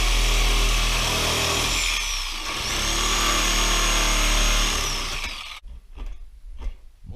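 A multi-tool buzzes loudly and steadily against a Ford Crown Victoria bumper, its pitch dipping briefly before it cuts off, leaving faint clicks and handling noises.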